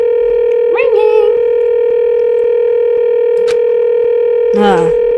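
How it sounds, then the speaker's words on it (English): A steady telephone ring tone drones on without answer inside the Danganronpa 2 video game, continuous and loud, with brief synthesized voice-like blips and a click layered over it. "Ah, sounds like it's connecting to somewhere. But no one picks up."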